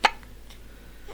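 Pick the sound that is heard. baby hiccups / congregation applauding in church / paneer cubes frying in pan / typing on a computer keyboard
baby hiccups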